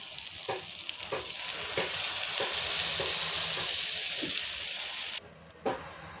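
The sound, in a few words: coconut milk added to sizzling egg masala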